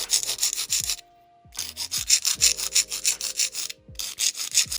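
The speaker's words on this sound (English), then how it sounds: "then just file straight down to, you know, straighten out this edge" A nail file works over plastic nail tips in quick, even back-and-forth strokes, a close, raspy rubbing that pauses briefly twice before resuming.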